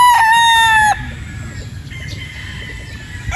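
A pure Boston Roundhead rooster lets out a loud, close crow that ends sharply within the first second, followed by quieter farmyard background and faint clucking.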